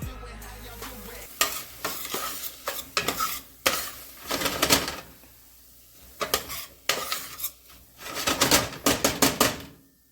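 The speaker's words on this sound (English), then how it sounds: "Every once in a while, give them a stir." A spoon stirs softened vegetables in a pan for chicken and sausage etouffee, with scraping, clattering bursts in irregular clusters over a faint sizzle, close and fairly loud.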